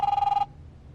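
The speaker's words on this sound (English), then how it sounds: "Is someone on the phone?" A telephone rings in The Wolf Among Us video game, a single loud electronic ring burst of fast rapid pulses that stops abruptly, followed by near silence.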